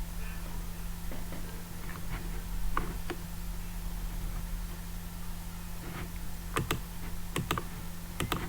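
Password keys tapped on a computer keyboard, sparse soft clicks in short bursts over steady low hum, quiet and close, with no talking.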